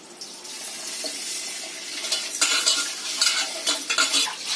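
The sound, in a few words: rice being washed in water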